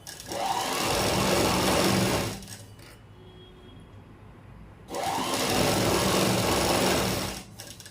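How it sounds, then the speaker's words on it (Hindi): A sewing machine stitching a salwar runs in two close, loud bursts of rapid whirring, separated by a quiet pause of about two and a half seconds. "तो ऐसे करके हम इसको बराबर करके सिलाई लगा लेंगे।"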